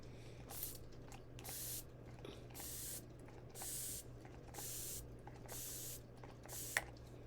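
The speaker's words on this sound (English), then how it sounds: "Now, you already know my Neutrogen Radiant Setting Spray Healthy Skin." Neutrogena Radiant setting spray misted onto a face in repeated short bursts, about seven soft, close hisses evenly spaced with quiet pauses between them.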